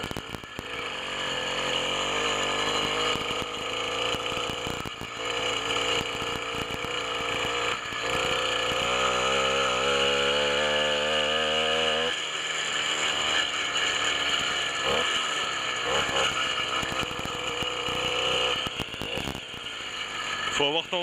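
A small 80cc two-stroke motorized bicycle engine runs steadily up close, a raspy buzzing drone whose pitch climbs and wavers as the throttle changes, with mechanical rattling throughout.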